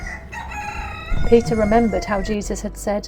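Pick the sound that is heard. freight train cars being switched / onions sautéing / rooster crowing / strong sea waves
rooster crowing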